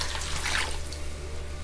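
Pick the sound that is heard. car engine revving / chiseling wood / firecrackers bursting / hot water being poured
hot water being poured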